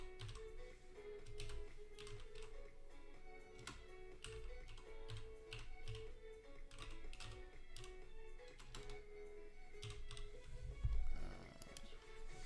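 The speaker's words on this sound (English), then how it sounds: "So I'm just going to type in my email" Rapid, uneven keystrokes on a computer keyboard as an email address is typed, close and clear over a steady background hum, in bursts with short pauses between them.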